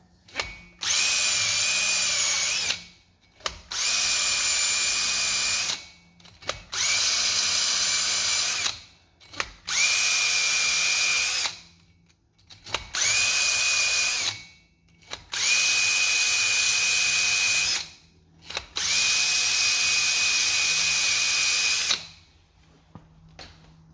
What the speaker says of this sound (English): 3M makes these tools that go in your drill